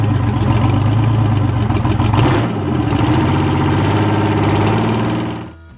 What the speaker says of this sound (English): Number 1. The Detroit Diesel 671.